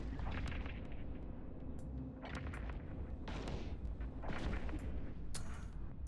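Ship weapons in the Eve Echoes space game focus-fire in repeated booming, crackling bursts over a constant low engine rumble, with several louder blasts spread through the stretch and no one speaking.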